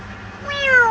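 A child mimics a cat, giving one rising, drawn-out meow that sounds close and clear over a quiet room.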